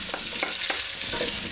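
Bacon frying in hot oil over high heat, a dense continuous sizzle and crackle close up, with light stirring scrapes and no voices.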